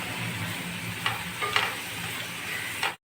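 Chopped ridge gourd sizzles in a pan while being stirred, a gentle frying hiss broken by a few scraping stirs, ending abruptly.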